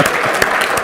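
Brief burst of audience clapping at a conference session, steady and fairly loud throughout.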